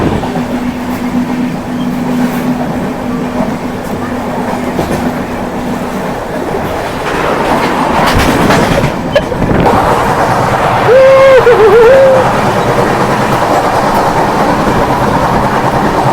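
A Vistadome train rolls along the rails, heard loud and close from an open door, with a constant rumble and rattle that swells midway, plus a brief whining squeal near the end.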